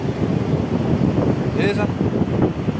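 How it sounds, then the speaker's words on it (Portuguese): Steady wind roars over a beach during a fishing outing on the shore, a constant broadband rush with a voice speaking briefly over it. "O vento agora deu uma puxada a mais"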